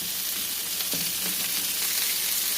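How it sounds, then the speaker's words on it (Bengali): Ginger, garlic and sesame seeds frying in hot oil for a chicken dish: a steady, close, bright sizzle that hisses continuously, with faint stirring underneath and no talk. "তো এটাও ভালো করে আমি এখানে ফ্রাই করে নেব।"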